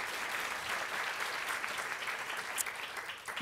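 Steady audience applause fills a lecture hall after a conservation scientist is introduced at a talk on Galapagos giant tortoises, a dense sustained clapping wash throughout.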